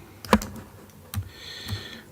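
Computer keyboard shortcut keys pressed in a home music studio, three separate crisp clicks spaced about half a second to a second apart, close and fairly quiet, with no talking.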